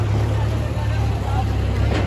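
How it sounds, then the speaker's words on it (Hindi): A tractor passes close by on a narrow, dangerous mountain road in Uttarakhand, its steady, loud engine rumble continuous throughout the clip with some wind noise on top. "गाड़ी ट्रैक्टर आया भाई"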